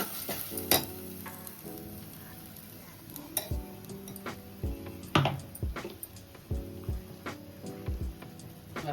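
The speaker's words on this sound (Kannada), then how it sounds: "ಹಸಿ ವಾಸನೆ ಎಲ್ಲ ನೀಟಾಗಿ ಎಣ್ಣೆ ಬಿಟ್ಕೊಳ್ಳೋತಂತ ಫ್ರೈ ಮಾಡ್ಕೋಬೇಕು ಗೈಸ್" Ginger garlic paste with turmeric frying in hot oil for a mutton sambar, a steady low sizzle broken by repeated scraping and clinking of a spoon against the pan, fairly close with no talking.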